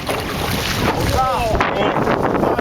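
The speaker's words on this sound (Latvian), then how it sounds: "13. diena, atklātā jūra. Baigās šļakas." Waves splash against a boat on the open sea, a steady loud rush of water and wind noise with a brief voice partway through.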